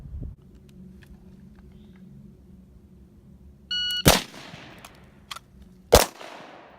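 Two sharp, loud rifle shots from a PWS MK1 short-barreled rifle ring out about two seconds apart, each with a metallic ring-out, following a steady low hum and a brief electronic timer beep.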